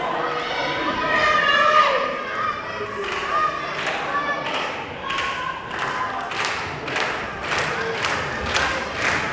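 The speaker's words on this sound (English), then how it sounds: "Listen to this crowd." A small-hall wrestling crowd in Romford claps and stamps in a rhythmic beat, urging a wrestler on, with shouts and children's voices mixed into the steady pounding.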